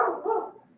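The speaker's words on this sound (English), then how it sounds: "dog is going crazy" A dog gives one short, nearby bark that fades quickly into quiet.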